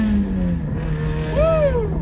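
A Chevrolet Cruze fitted with new cams and a turbo accelerates, its engine note climbing steadily and then sweeping higher with a rising whine, loud and close.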